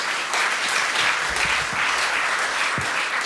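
Steady applause from a conference audience welcoming a product specialist onstage at a Native Instruments talk, dense and even throughout with a few faint low thumps underneath.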